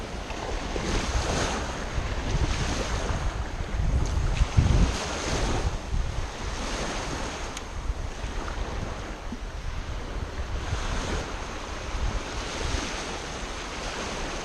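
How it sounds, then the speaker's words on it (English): Rough ocean surf breaks by a jetty at Fort Clinch, a steady loud roar of waves with buffeting wind noise on the microphone, no talking. "The water was getting rough out there by the jetty"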